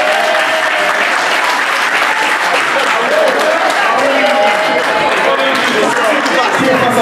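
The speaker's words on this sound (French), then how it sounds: "on peut l'applaudir, s'il vous plaît" Wedding guests at a Franco-Guinean celebration in Amiens clap loudly and continuously, a thick sustained wash of applause with crowd noise and voices mixed in throughout.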